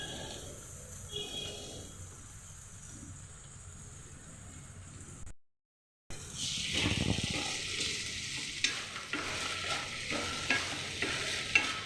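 Diced potatoes stir-fried for an egg and aloo fry, a steady sizzle with scraping and stirring that cuts out briefly, then returns louder with busy clatter.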